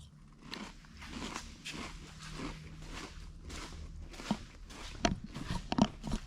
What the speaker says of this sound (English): first order of business is eat some Cheez-Its